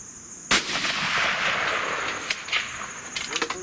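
A Ruger American rifle fires at long range outdoors, one sharp loud report followed by a long rolling echo, then fainter clicks and handling noises near the end.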